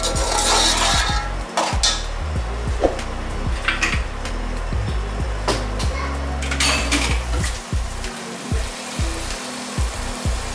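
A spoon clatters and scrapes steadily against a metal pot as tomato puree is stirred into mutton kabsa, with rhythmic knocks and light sizzling throughout, loud and close, no talking.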